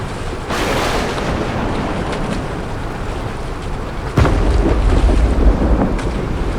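Stormy wind roars around a small boat on open water, a steady gusting rush with sloshing waves that surges louder partway through.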